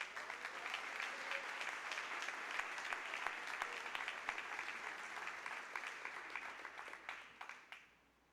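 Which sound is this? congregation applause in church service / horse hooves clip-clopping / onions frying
congregation applause in church service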